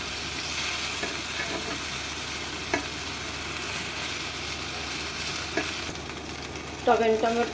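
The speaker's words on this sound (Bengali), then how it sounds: "উল্টে পাল্টে নিয়ে ভেজে নেবো" Tomatoes frying in a pan for an egg and tomato bharta, with a continuous sizzle, a few scattered spatula taps as they are turned, and a brief clatter near the end.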